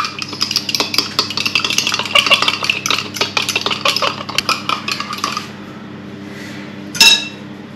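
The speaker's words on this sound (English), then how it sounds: "Give them a quick whisk." Eggs whisked briskly in a Pyrex glass dish, a rapid clicking rattle of the whisk against glass for about five seconds, then a quieter pause and a single sharp clink at the end.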